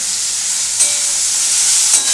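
Spiced masala with tomatoes, turmeric and Kashmiri chilli powder fries in a pan for a fish curry, giving a loud, continuous close-up sizzle with a couple of short stirring swells.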